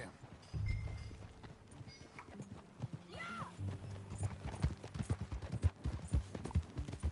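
Horse hooves clip-clop at a steady riding pace in Red Dead Redemption 2, with a whinny partway through and other game sounds mixed in.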